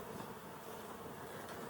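Honeybees drone in a steady, continuous buzz around a beekeeper during a honey harvest in Colorado, the hum fairly close and unbroken for the short stretch.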